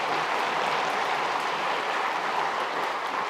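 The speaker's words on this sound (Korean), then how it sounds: "따뜻한 마음으로 박수로 한번 격려하겠습니다" A church congregation in Korea applauds newly baptized members during a Sunday worship service, with steady, dense clapping from many hands that fills the room without pause.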